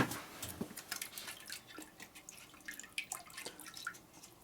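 Water drips and splashes in a sink while old engine gaskets from a 1942 WLA military 45ci flathead motor are wetted, a quiet run of irregular close drips and small splashes.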